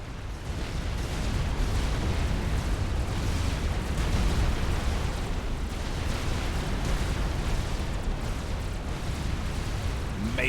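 Artillery explosions in the Supreme Commander strategy game form a continuous dense roar of overlapping booms and rumbles, loud and sustained throughout with no clear breaks.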